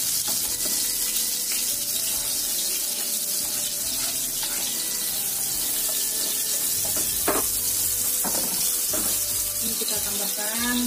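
Garlic sizzles and is stirred in a hot frying pan while asparagus in oyster sauce is being cooked. The frying hiss is steady and close, with scraping stirs and a few clinks along the way.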